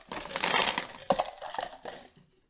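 Ice cubes tumble into a cup of homemade lemonade over mashed lemons and sugar, a close, crunchy clatter with a few sharp knocks that quickly dies away.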